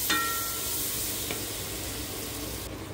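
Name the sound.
frying and stirring spice paste with browned onions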